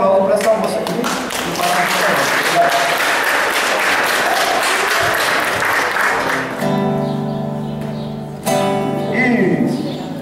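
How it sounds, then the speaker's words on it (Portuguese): A crowd at an outdoor community music event applauds loudly for about six seconds, then the clapping fades as an instrument begins to play, with voices in the background. "E eu quero mais um aplauso para essa moça aqui."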